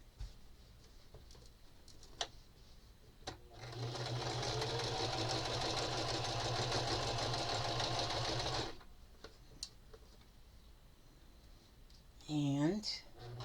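Sewing machine stitching fabric for a needle book cover runs in one steady whirring burst of about five seconds, close and loud. Quiet clicks and handling come before and after, and a brief voice sounds near the end.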